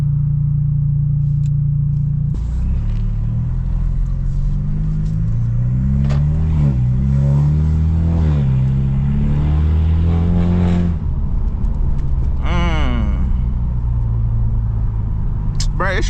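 A Stage 2+ BMW F30 328i is driven with its engine droning and climbing through gear changes, rising and falling in pitch, with a short sharp burst late on, and a voice talking over it.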